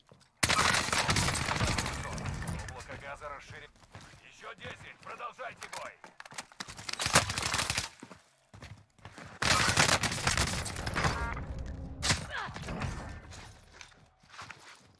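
Vargo-52 rifle fire in the video game Warzone, sustained automatic bursts in several strings separated by short pauses, loud and close, with a voice speaking in between.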